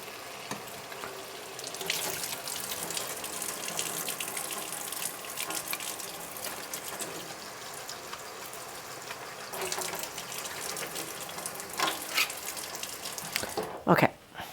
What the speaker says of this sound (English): I'm going to go ahead and drain this can of chickpeas. I'm just going to give them a rinse here.